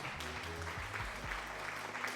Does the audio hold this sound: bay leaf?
no